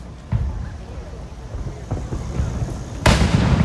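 Fireworks exploding at the Boston Pops Fourth of July show, two sharp booms several seconds apart, the second close and loud, over wind noise and crowd murmur.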